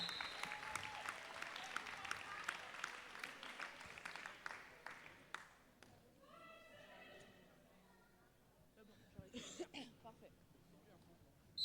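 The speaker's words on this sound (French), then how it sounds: "Et on peut les applaudir bien fort s'il vous plaît, merci les arbitres" A roller derby crowd applauds the referees, a burst of clapping that fades after a few seconds into quieter murmurs, with a voice briefly heard near the end.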